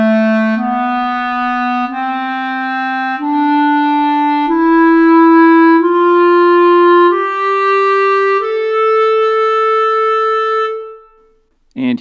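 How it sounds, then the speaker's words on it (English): An A natural minor scale rises one clear sustained note at a time in a steady, even sequence, with a faint click right at the end. "This is the sound of the A natural minor scale."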